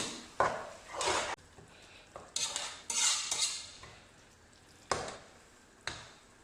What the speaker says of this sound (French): Je mélange bien le tout